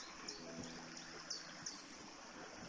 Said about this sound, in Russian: Вон, видите, ручеек здесь течет, вода.